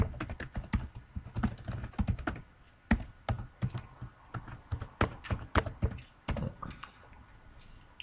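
Rapid computer keyboard typing while login details are entered, a dense run of crisp key clicks with short pauses and a few heavier thunks, close and fairly loud, no voices.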